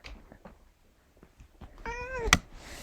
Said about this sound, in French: Voilà le chat qui vient.